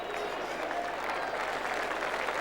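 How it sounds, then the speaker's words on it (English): A stadium crowd at a 1989 State of Origin Australian football match applauds a substituted player, a steady, distant wash of clapping and crowd murmur throughout. "Shane Morwood receiving some applause for his efforts."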